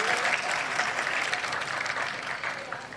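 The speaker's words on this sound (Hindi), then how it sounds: "तालियां होनी चाहिए जरा अच्छी सी" An audience at a mushaira claps in warm, full applause, a dense and even burst of many hands that stays loud and sustained from start to finish.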